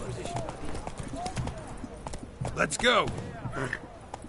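Hoofbeats of Roach, Geralt's horse in The Witcher video game, breaking into a gallop, with a rhythmic clip-clop under a voice urging the horse on. Whooshing movement sounds and a loud spoken exclamation fill the last seconds.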